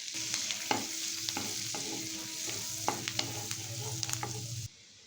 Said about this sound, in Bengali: এই বাটারের মধ্যে দিয়ে দিচ্ছি আমি রসুন কুচি রসুনটা খুব ভালো করে একটু পোড়া হতে দেবো